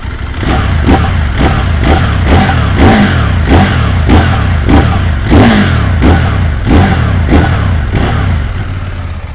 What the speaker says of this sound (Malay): Bunyi exhaust dia.